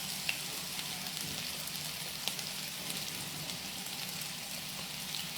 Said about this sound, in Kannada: ಹಸಿ ಮೆಣಸಿನ್ಕಾಯಿ ಆ್ಯಡ್ ಮಾಡ್ತಾ ಇದ್ದೀನಿ